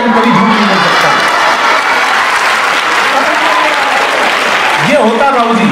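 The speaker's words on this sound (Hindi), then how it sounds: "ये ताली बच्चे ही बजाएंगे क्योंकि उनका दिल साफ है" An audience claps loudly and steadily at a Hindi comedy poetry show, with dense, sustained applause and a few voices audible through it.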